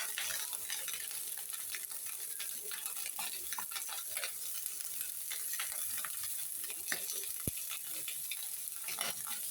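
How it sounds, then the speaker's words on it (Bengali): Small fish and chopped onion fry in a pan with a steady, close sizzle and crackle, broken by faint scraping stirs, and no voices. "এখন আমি পেঁয়াজটাও মাছের সাথে ভেজে দিব। এই যে পেঁয়াজ কুচি এটাও দিয়ে দিচ্ছি।"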